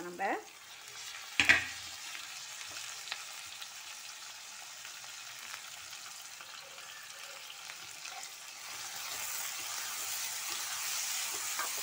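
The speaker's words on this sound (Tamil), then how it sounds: "இப்போ பாருங்க, வெங்காயம் நல்லா வதங்கிட்டு இப்போது இந்த தக்காளியை சேர்த்துக்கலாம்." Onions and tomatoes fry in a pan for channa masala, giving a quiet continuous sizzle. A sharp stirring clatter comes near the start, and the hiss grows fuller and louder toward the end, with a brief spoken word early on.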